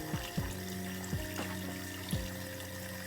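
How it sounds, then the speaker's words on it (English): Water running steadily from a faucet while cleanser is rinsed off a face, a continuous close splashing with a few brief louder splashes of hands in the stream and no talking. "and then we'll rinse"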